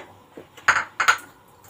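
Food is stirred in a pan, with a few sharp metallic clinks of a utensil against the pan: one soft tap, then two louder strikes close together, in an otherwise quiet room.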